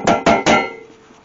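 A tin can is punched three times in quick succession, three sharp metallic clanks close up, each ringing briefly before a fading tail.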